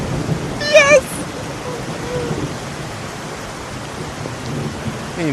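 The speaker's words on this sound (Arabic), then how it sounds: "تبارك الله الرعد البرق" A thunderstorm with steady, heavy rain hissing evenly throughout, with a brief louder burst near the start and low rumbling underneath.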